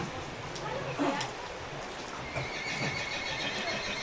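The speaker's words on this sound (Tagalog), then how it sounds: "Kabayo dun ah." A horse whinnies loudly in the middle, with hooves clip-clopping steadily on the ground in the open air near a rest house in Jala-Jala, over a light background hum. Faint voices are present.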